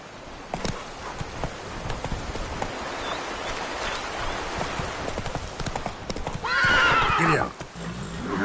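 Horse hooves clip-clopping steadily in The Witcher 3, with a loud close neigh near the end over faint rain-like background patter.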